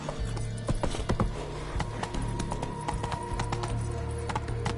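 Rapid galloping hoofbeats of a horse in the video game The Witcher 3, running steadily close up amid rattling tack and a low rumbling game soundtrack, with no talking.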